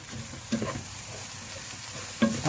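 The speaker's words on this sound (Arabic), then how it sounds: "هقلب كده كويس" Spoon stirring rice with green fava beans and dill in a pot, soft scraping and shuffling over a low sizzle, with a couple of sharper knocks against the pot.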